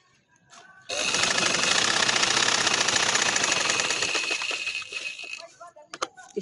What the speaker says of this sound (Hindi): एक साइड पे मैं ऐसे सिलाई लगा लूंगी और दूसरी साइड पे लगाते हुए